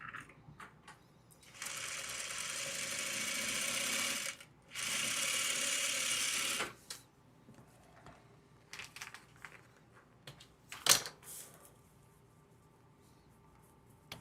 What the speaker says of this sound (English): If I just sew a little bit of a scant 1/4 inch, we can make this work.